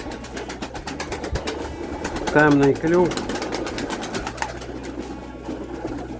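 Young winter pigeons give a short pair of soft coos close by, set against a low background hum, while someone talks over them.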